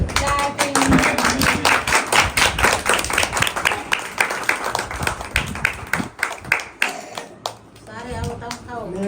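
A group of people clapping together at a village wedding, quick rhythmic applause running steadily for several seconds with voices and background chatter mixed in.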